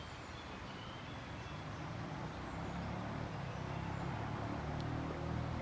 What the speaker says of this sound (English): there's a wee bit of traffic noise, as you can hear